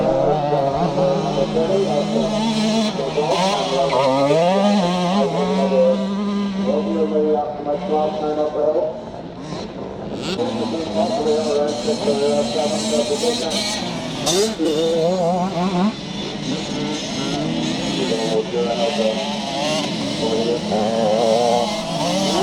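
Classic scramble motorcycles race up a hill at a countryside track near Bangor, Northern Ireland, their engines whining and revving through the whole stretch, rising and falling, while a commentator talks over them.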